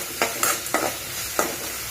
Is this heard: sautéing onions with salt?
yes